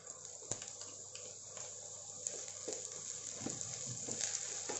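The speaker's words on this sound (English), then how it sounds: "fry it well until it's cooked" Beans frying in a pan with peas for paneer pulao, a soft, steady sizzle with occasional clinks and scrapes of stirring, fairly quiet throughout.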